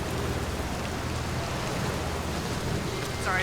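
Steady rain hisses on a surface in the video game Outer Wilds, a dense, even wash of noise with a voice briefly audible near the end.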